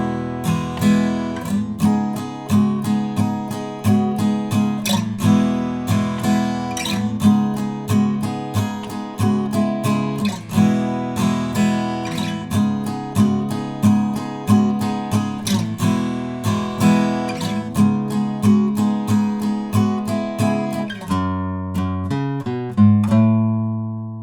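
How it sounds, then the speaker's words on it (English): Acoustic guitar playing the full intro of a song, a long run of steady, evenly picked strummed notes in a driving rhythm, close and bright, closing with a few slower ringing strums and no voices. "And the intro in total."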